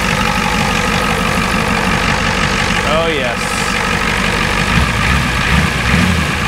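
A 1983 Ford F-350 pickup truck engine with mechanical injection idles with a steady low rumble from its exhaust while someone speaks briefly over it.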